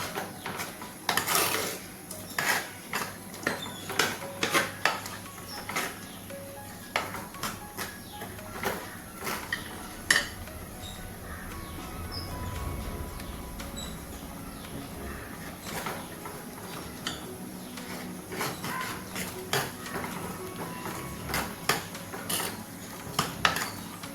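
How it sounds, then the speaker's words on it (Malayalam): Cooked vegetables for a thick sambar are mashed in a pot with a metal ladle, giving repeated sharp clinks and scrapes in uneven bursts, close and fairly loud, with a quieter stretch midway. "തവിയച്ച് നമ്മൾ നല്ലതുപോലെ ഒന്ന് ഉടച്ചു കൊടുക്കുന്നുണ്ട്"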